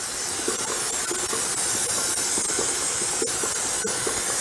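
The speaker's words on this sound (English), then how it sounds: "I'm going to take my bundt pan and I'm going to spray it really good." Cooking spray hisses steadily and close up onto a bundt pan for several seconds, with faint tapping noises underneath.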